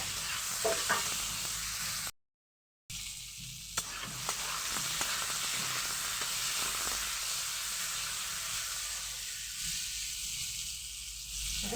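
Amla pickle fries in a pan with turmeric and salt, a steady close sizzle and hiss with stirring scrapes and one brief silent gap.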